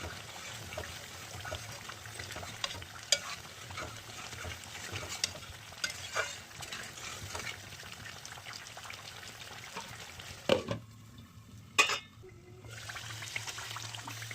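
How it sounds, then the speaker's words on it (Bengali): Spice paste for aloo dum being stirred and fried in a pan, a soft ongoing sizzle with scraping stirs and occasional clinks, briefly dropping out to near silence before the cooking resumes. "তো মাঝে মাঝে ঢাকনা দিয়ে দিয়ে মশলাটাকে কষিয়ে নেব"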